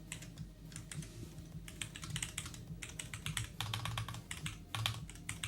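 Rapid typing on a computer keyboard, dense clattering keystrokes in quick bursts, close and steady throughout with brief pauses.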